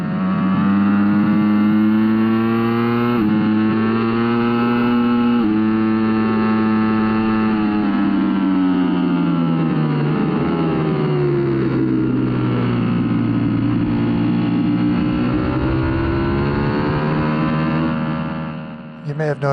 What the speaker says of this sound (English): let's just listen to this great sounding bike